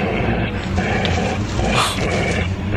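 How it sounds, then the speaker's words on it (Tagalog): A big black dog growls in a dark outdoor setting at night, a steady low rumbling snarl running continuously and fairly loud throughout, with some broadband noise layered over it. "kundi aso. Isang malaking asong itim."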